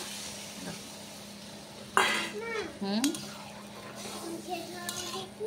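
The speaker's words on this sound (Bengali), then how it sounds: "দেখো এঁচোড়টা খুব সুন্দর করে কষানো হয়ে গেছে, এখন ডালটা দিয়ে দেবো।" Chickpea dal is tipped into cooked jackfruit in a kitchen pan, with clinking utensil and pan knocks and light stirring, while a voice and other chatter come and go in the background.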